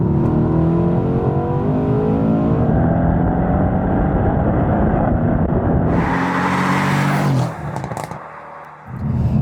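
A 2019 Mercedes-Benz C63S AMG Coupe with a 4.0 V8 bi-turbo, Stage 2 remap and OPF delete revs loud and close in one long, rising blast, then cuts sharply near the end.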